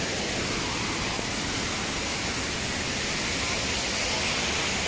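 Steady broadband roar of Mantayupan Falls in Barili, Cebu, a constant rushing hiss of falling water filling the scene without a break, fairly loud and close, with no voices standing out.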